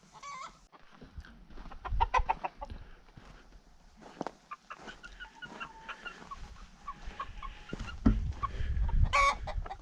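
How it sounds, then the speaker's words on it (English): A rooster on a homestead farm clucks and calls close by, with other farm fowl sounds and some rustling and thumps around it. "our new rooster we got from First Generation Farms"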